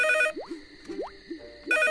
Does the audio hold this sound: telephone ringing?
yes